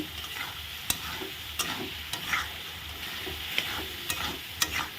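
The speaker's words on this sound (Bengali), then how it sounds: "এখন ভালো করে নেড়ে চেড়ে একদম মাংস মশলার মতো কষিয়ে নেব" Large boal fish head being sautéed with fried potatoes and spices, a continuous sizzle with repeated spatula scrapes and clicks against the pan at a steady stirring rhythm, close up.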